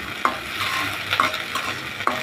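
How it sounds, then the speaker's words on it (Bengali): Green peas fry in hot oil in a kadai over medium heat, a continuous sizzle broken by three sharp scrapes of a spatula stirring them at roughly regular intervals. "তেলটা গরম হলে দিয়ে দিব কড়াইশুঁটিগুলো হালকা হালকা একটু ভেজে নিব"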